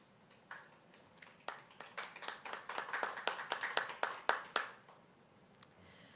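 Scattered hand claps for graduates at a 2020 graduation ceremony, a sparse, fairly faint run of individual claps that thickens briefly and then trails off to a few last claps.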